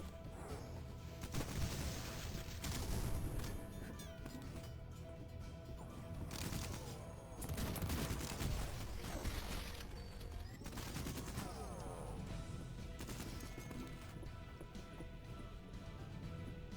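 Gunfire in the retro shooter Cultic, repeated bursts of sharp cracking shots and crashes in clusters, with a dense metallic barrage and quieter stretches between volleys, no voices.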